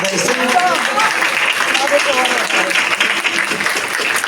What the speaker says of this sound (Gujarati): ભલે તમે ઓછી તાળી પાડો વધારે પાડો